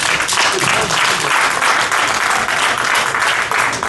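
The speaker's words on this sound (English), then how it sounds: "Can you give me another round of applause," Audience at an online talk show film premiere giving a loud, sustained round of applause, dense clapping throughout with no voice on top.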